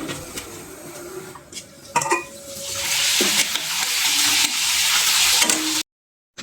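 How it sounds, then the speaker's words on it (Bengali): Papad fry in hot oil, with scattered clatters and stirring at first, then a loud, close sizzle that swells and holds before cutting off abruptly. "খিচুড়ির সঙ্গে খাওয়ার জন্য আমি কয়েকটা পাপড় ভেজে নেবো।"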